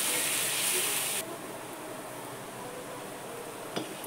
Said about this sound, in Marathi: उकळी आली बघा पाण्याला